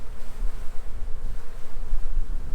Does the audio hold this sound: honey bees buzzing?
yes